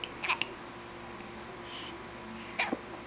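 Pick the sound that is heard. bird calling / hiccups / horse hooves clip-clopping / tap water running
hiccups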